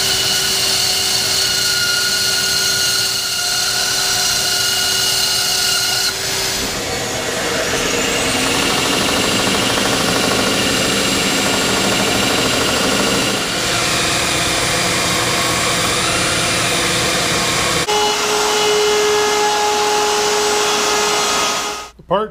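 A power sander works over Corian and acrylic parts, giving a steady, continuous whirring drone that runs unbroken for the whole stretch, close and fairly loud with no talk over it.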